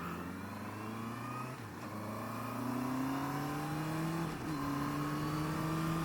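A Honda CBR650R motorcycle shifts on the throttle with no clutch, its engine droning steadily upward with brief dips at each gear change, heard close from the rider's position.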